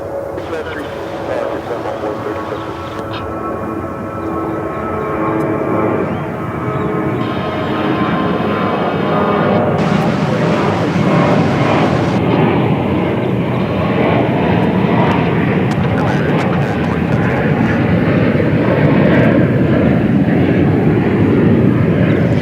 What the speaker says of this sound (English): There you see the big Japan Airlines 777, which is now close to being able to take off.